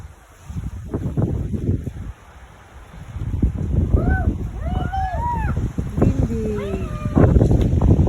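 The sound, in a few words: wind blowing on a sunny day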